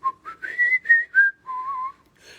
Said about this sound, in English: a bit of whistling,